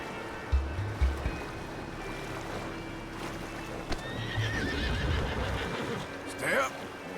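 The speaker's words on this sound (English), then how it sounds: "The horses are confused. We need to round them up." Horses whinny in a Red Dead Redemption 2 game scene, a high neigh rising near the end over steady ambient noise and faint hoof thumps, with speech in the scene.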